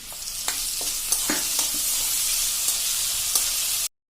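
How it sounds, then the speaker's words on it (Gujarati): Half a bowl of onions sautéing in a pan for dal baati, a loud continuous close sizzle with scattered light clicks of stirring, cutting off abruptly near the end. "હવે એમાં આપણે અડધી વાટકી મેં કાંદા લીધા છે એ નાખી દેશું. કાંદાને આપણે સરખા સોતે કરી લેશું."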